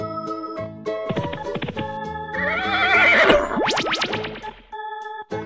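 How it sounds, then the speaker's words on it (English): A horse whinnies loudly and close, a long shrill neigh with rising and falling pitch, over a steady musical backing that continues after the call. "Horse."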